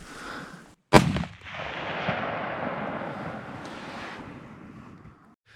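A single sharp rifle shot during a whitetail hunt in northern Idaho, sudden and loud, followed by a long rolling echo and wind noise that fades out over several seconds.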